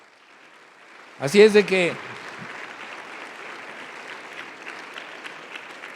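A church congregation at a Sunday sermon applauds in a steady, moderate wash of clapping after someone speaks a few words, the applause holding evenly to the end.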